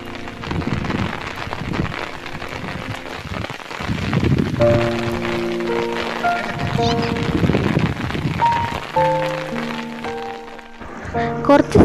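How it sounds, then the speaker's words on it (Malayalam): Heavy monsoon rain falls in Olippuram, Kerala, a dense steady hiss that carries on throughout, with a voice singing or speaking over it for much of the time. "അപ്പോൾ വന്നിറങ്ങിയപ്പോൾ തന്നെ നല്ല കിടുക്ക മഴയാണ്."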